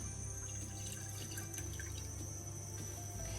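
Liquid corn flour paste pours steadily and softly into a saucepan, a continuous quiet splashing stream with no speech.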